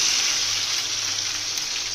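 Crushed garlic hitting hot oil in a pan for a fish curry gives a steady, close, bright sizzling hiss that holds evenly throughout, with no talking.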